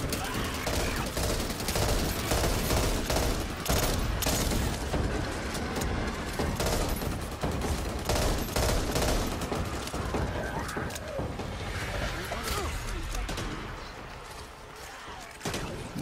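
Rapid, dense gunfire from Back 4 Blood cooperative zombie-shooter gameplay, with overlapping bursts and shots crackling continuously and loudly, mixed with mechanical clicks and a few faint voices.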